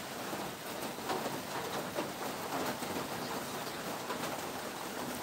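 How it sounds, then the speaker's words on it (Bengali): Rain falling outdoors on a hot day, a faint, even hiss of steady drops with soft scattered patter, continuous and fairly distant, without any voices. "বৃষ্টি হচ্ছে তবুও খুব গরম"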